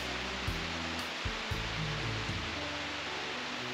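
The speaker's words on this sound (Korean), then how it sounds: "굴곡당계고 상미에서 흘러내리는 폭포와 쌍폭골에서 흘러내리는 폭포가 이곳에서 만나서 Y자 모양으로 떨어지는데" A Y-shaped twin waterfall in a Korean mountain valley pours in a steady, broadband rush, with a few low thumps and a faint voice briefly audible beneath the falling water.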